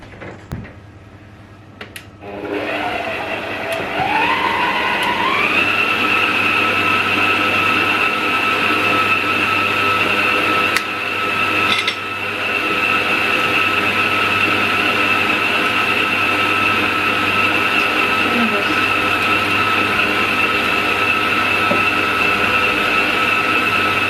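An electric stand mixer whirring through Victoria sponge cake batter, a loud steady motor drone that ramps up in pitch over the first few seconds, then holds constant, with a brief knock midway and no talking.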